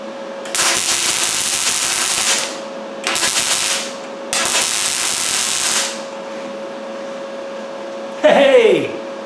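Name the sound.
spot welding through stainless steel on Series 2 bulkhead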